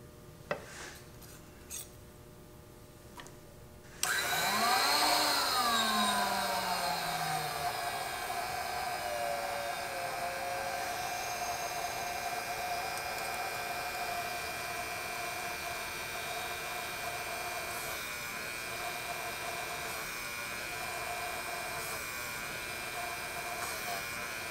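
Servo micro drill boring holes in a knife blank at around 2000 RPM with a low feed, a steady close whine and hum that starts after a few faint ticks and runs on with small dips.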